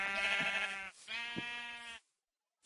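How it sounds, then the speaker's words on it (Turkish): Sheep in Minecraft give two loud, close bleats, each about a second long with a short gap between, then silence. "Burada bir sürü koyun varmış."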